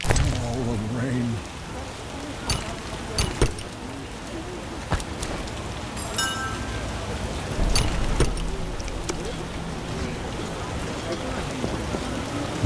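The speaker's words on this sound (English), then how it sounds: "Oh, rain." Rain falls across a city district in The Witcher, a soft steady patter with scattered sharper drops and splashes, with occasional brief speech.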